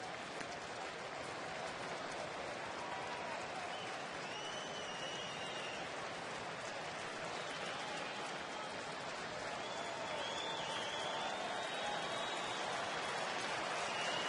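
A baseball stadium crowd cheers and waves rally towels, a dense, steady wash of noise like applause or rain that holds loud and even throughout, with faint voices buried in it.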